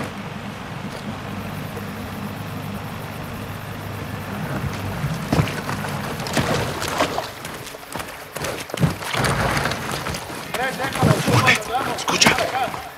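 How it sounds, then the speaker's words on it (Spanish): Cartel motorboat running on open water in Call of Duty Modern Warfare II, a steady engine and water rumble beneath bursts of gunfire-like impacts and game dialogue, growing busier and louder in the second half. "Esa es su lancha."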